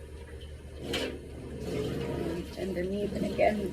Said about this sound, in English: Rinse out all the shampoo.